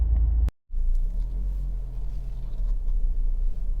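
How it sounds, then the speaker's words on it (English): Honda CR-V 2.2 i-DTEC diesel engine idling with a steady low rumble, briefly cutting out for a moment near the start before resuming, close and alone. "engine running"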